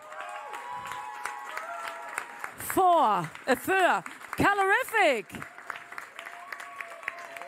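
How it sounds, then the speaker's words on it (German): Audience applause at a Low German song contest finale, a wash of clapping and crowd noise under an announcer's voice, with loud, pitch-sliding vocal whoops and cheers rising in the middle. "Nochmal einen großen Applaus"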